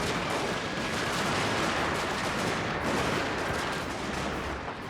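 Gatling gun and artillery fire in a Total War battle as the Battle of Hakodate: a continuous, dense roar of overlapping shots and blasts at a steady, loud level with no breaks.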